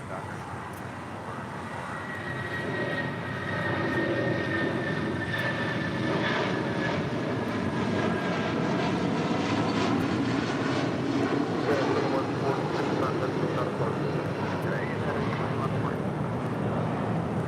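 An airliner departing runway 25 right at LAX swells into a loud, steady engine roar that holds for many seconds. Voices talk over it now and then.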